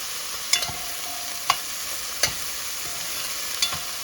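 Frozen spinach fries in a pan with a constant bright sizzle, while a utensil knocks and scrapes against the pan every second or so as it is stirred, close up with no voices.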